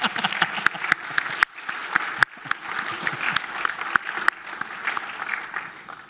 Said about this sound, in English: Or clapping time, I don't know.